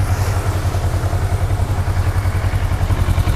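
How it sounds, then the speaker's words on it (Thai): A 2014 Kawasaki ER-6n motorcycle engine idles loudly and steadily up close, a low, even, pulsing thrum with no voices. "ฟังเสียงเครื่องยนต์ลองฟังเสียงเครื่องยนต์นะครับ เดินเบาเนียนๆ"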